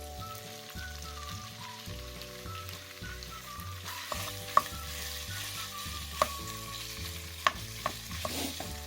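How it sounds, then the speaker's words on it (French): Minced meat sautés in hot oil in a saucepan over low heat, a soft continuous sizzle under background music, with a few sharp clicks of a utensil breaking up the meat toward the end. "Je vais faire sauter la viande comme ça, à feu doux, tout en essayant de casser un peu"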